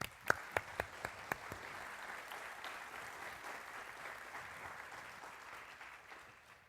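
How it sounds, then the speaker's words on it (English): Steady audience applause at a royalty coronation stage ceremony with Aquatennial representatives, opening with a few sharp individual claps and then settling into a sustained, fairly distant wash of clapping with no talk. "Let's give them a big round of applause."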